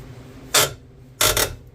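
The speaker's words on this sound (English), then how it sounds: "on the head of the bolt itself, and I'm just going to rotate it back and forth" A bolt head on a Hyundai Sonata control arm is worked back and forth with a tool to loosen it. Two short, close scraping bursts sound, the second longer and doubled, with quiet in between.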